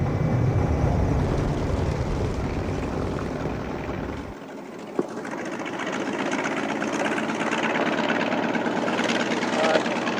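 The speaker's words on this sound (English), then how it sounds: "There are 30 Meo pilots flying T-28 bombers over territory which was once their homeland." A T-28 bomber's piston engine drones steadily and loudly throughout, a broad continuous roar that shifts in tone midway, with a brief sharp click near the middle.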